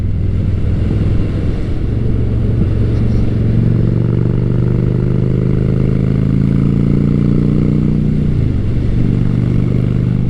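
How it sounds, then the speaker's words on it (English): A Honda Shadow Spirit 750 cruiser motorcycle fitted with Cobra exhaust rumbles steadily and loudly up close, its engine note rising and falling slightly as it pulls along. "This bike has Cobra exhaust on it, so it's a little bit louder than stock. I don't mind that little bit of extra rumble."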